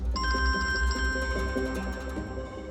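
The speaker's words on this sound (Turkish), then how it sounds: "Abi müsaade eder misin ben bir telefona bakayım?" A phone ringtone plays in a repeating electronic melodic pattern over a low background rumble, steady and moderately loud with no one talking.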